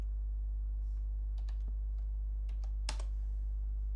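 Computer keyboard typing a layer name in Photoshop, then a firm Enter press: a handful of scattered light key clicks ending in one sharper, louder keystroke, close and alone over a steady low hum.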